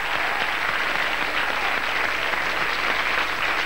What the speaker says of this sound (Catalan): I també tenen este aplaudiment.